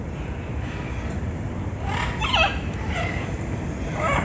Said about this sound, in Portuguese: Tem até galinha da Angola